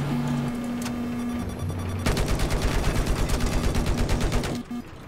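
Explosive missile attack in Battlefield 4, heard as a steady dense rattle of rapid automatic bursts and impacts that starts abruptly and runs on loud over a droning engine tone.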